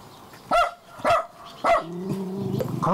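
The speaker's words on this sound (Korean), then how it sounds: "강아지들은 난 지 얼마 안 됐나 봐요?" Dogs bark at a rural home with puppies, three sharp close barks in a row, then a lower growling, whining vocalization that runs on to the end.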